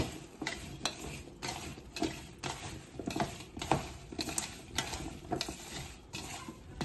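Paneer pieces are tossed with salt and ground pepper in a bowl, producing a rhythmic run of close scraping and clattering strokes, about one every half second, steady and fairly loud with no voices.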